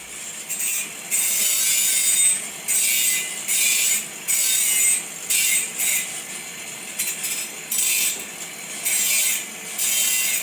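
Metal on a welded spare tire bracket is ground in a workshop, the abrasive hiss coming in a rapid string of short, harsh bursts with brief pauses between strokes.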